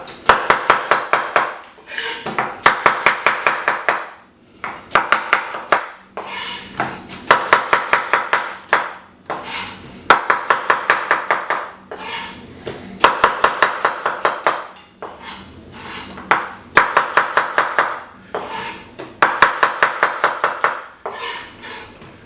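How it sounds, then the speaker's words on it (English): Onions chopped on a cutting board with a knife, steady rapid bursts of chops in rhythmic runs separated by short pauses, close and clear, for a French onion soup. "get these onions chopped"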